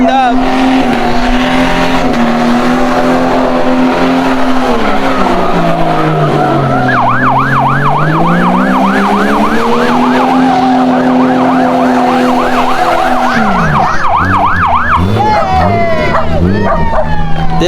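A car burns out its sticky tires, the engine revving and wailing in rising and falling pitches over a constant loud tire roar, with a sharp drop near the end.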